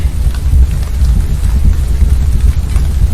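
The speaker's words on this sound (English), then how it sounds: "It's freezing rain, but that's okay." Freezing rain in a flight simulator, a steady dense wash of rainfall with a low rumbling undertone that holds unbroken from start to finish, with no voices.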